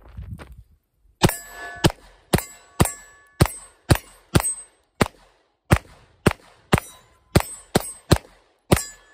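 Pistol shots from a Palmetto State Armory Dagger at a shooting range, about fifteen sharp cracks in an irregular rhythm, loud and near, each followed by a brief ringing decay.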